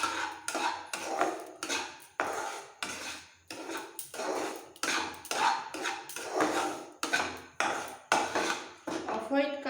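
A spatula scrapes and knocks against a pan while semolina roasts in ghee, sounding as steady, rhythmic strokes roughly every half second, close and clear, with no talking.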